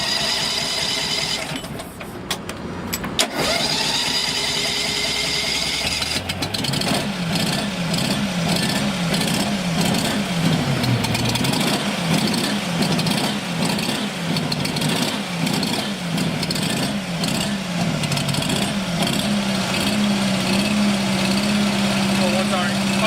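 A carpet cleaning van's cleaning unit engine cranks and starts, then settles into a steady, fairly loud idle with a rhythmic pulsing throb; a person talks over it near the beginning.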